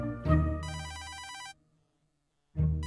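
A telephone rings in a video game based on the floor is lava, giving a bright repeated electronic trill, loud and close, followed by a short silence before another burst of ringing begins.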